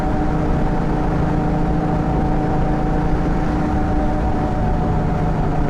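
Subaru-powered Beck coupe with a five-speed, its engine running steadily at about 3,800 RPM, a continuous loud drone with a low, even hum and no talk over it.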